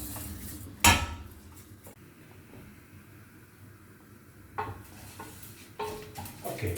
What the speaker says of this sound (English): we've been toasting the rice